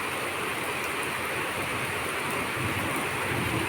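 Constant heavy morning rainfall, a broad even roar that swells slightly toward the end, with nothing else standing out.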